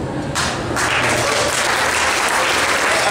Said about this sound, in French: Applaudissez pas, il vous entend pas.